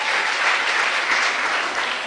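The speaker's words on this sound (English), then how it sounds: "Clap for yourselves." A large audience at an academic careers fair and exhibition bursts into loud, sustained applause, a dense uniform wash of many hands clapping that holds steady from start to finish with no voices over it.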